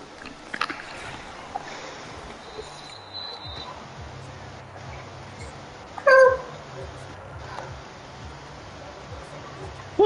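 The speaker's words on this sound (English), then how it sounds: "Yeah, that's my kitty cat." A pet cat gives one short, clear meow midway, loud and close above a quiet room background with faint voices.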